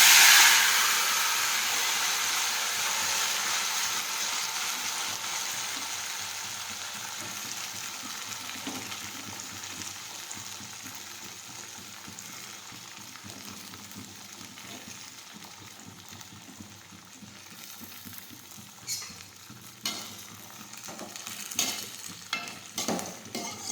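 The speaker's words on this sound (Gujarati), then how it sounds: "હવે આપણે તેમાં લસણ નાખી દઈશું રાઈ અને જીરું નાખીશું હવે આપણે ભાજી નાખી દઈશું" Greens drop into hot oil already crackling with garlic, mustard seeds and cumin; a bright sizzle bursts at first, then settles into a softer, continuous frying hiss with occasional stirring scrapes near the end.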